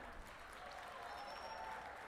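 An audience applauds at a college graduation ceremony, steady continuous clapping from a crowd spread through a large hall, fairly faint and distant.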